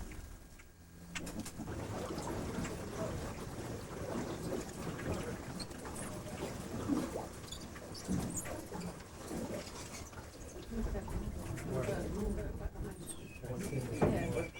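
Birds calling close to a boat, with soft cooing and scattered chirps under murmuring voices throughout.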